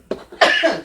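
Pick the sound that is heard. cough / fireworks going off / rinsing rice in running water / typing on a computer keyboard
cough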